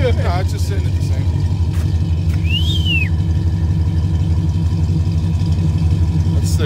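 A Ford Mustang, either a Shelby GT350R or a 2018-2019 Mustang GT, idles with a steady, low, throbbing exhaust rumble up close. A brief whistle rises over it.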